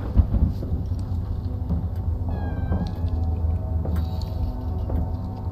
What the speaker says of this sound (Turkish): Şimşek çakıyor.